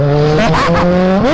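Kawasaki Z1000 motorcycle accelerating hard, a loud, close engine whine climbing steadily in pitch with a brief dip at a gear change before rising again.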